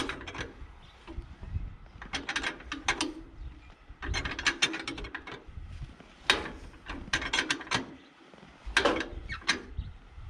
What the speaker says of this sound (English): Always make sure you got that crank engaged.